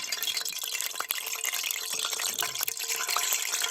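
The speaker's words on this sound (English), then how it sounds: "That is the snow falling and landing in the oil." Snow falling into smoking-hot frying oil in a pan over a chimney fire outdoors, giving a steady dense crackling sizzle with sharp pops, close and continuous with no talk.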